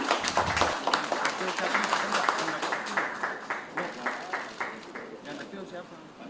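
Applause at a formal Indonesian government ceremony marking a handover of funds, clapping that gradually settles into a steady rhythmic beat in the second half.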